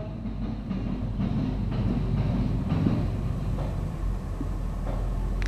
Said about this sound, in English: Alright, guys, that was CSX L357. It came from Martel, Ohio, and it's going to Marion, Ohio.